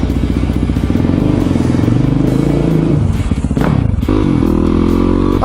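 A Yamaha WR450F supermoto motorcycle engine running loud and close while riding on a cold day, with a throbbing, shifting drone that changes pitch as the throttle varies, plus rattle and wind buffeting.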